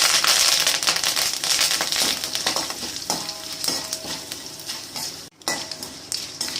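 Dried red chillies and curry leaves crackle and sizzle in hot oil as a spoon stirs them, loud close spitting with repeated scraping strokes and a brief gap near the end, no talking.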